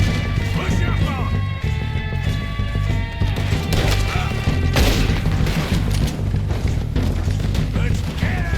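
Red Dead Redemption 2 shootout with dense, booming gunfire and crashing impacts over a continuous loud rumble of music and battle noise, with voices shouting.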